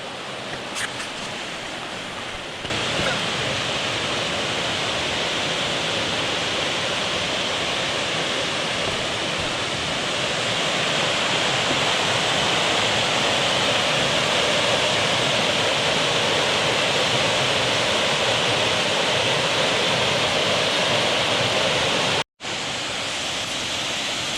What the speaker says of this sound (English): Stanley Gill waterfall in all its glory.